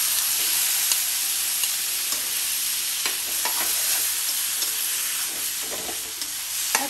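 Taro leaves added to a pan of small shrimp already frying, giving a loud, dense hiss of sizzling oil with scattered pops and the scrape of a spoon stirring, steady throughout with no talking.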